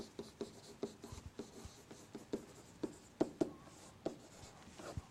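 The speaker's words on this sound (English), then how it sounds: "I'll write them all out" Handwriting on a board or paper, a series of short scratchy pen strokes in an uneven rhythm, close and fairly quiet, with no voices.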